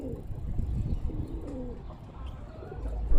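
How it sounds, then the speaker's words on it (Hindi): A captured Pilka pigeon coos repeatedly at close range, with low, throaty, rolling calls filling the short stretch without any talk. "और आप कबूतर देख लें माशाल्लाह से काफ़ी खूबसूरत है, काफ़ी प्यारा है"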